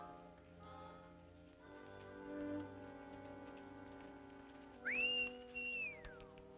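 A person whistles to call a horse, a bright rising then sustained tone near the end, preceded by softer whistling, over a low, murky background of ambient sound.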